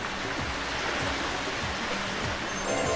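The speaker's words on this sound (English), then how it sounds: "Secret area behind the waterfall has nothing for me to explore." A waterfall in the video game Spyro: A Hero's Tail gives a steady, full rushing roar with no break, and a few soft low thuds sit underneath it.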